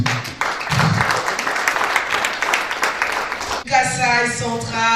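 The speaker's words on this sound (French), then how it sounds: "Je vous prie de les applaudir." Audience applause for award winners at a ceremony honouring excellence and merit, a broad wash of clapping with a crowd cheering under it, then a voice or tonal sound breaking through near the end.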